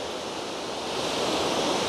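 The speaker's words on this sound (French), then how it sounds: "Première cascade d'une belle série" Waterfall on a spring mountain trail to the Chalets de Sales near Sixt, a steady broad rushing roar of falling water, close and continuous with no voices.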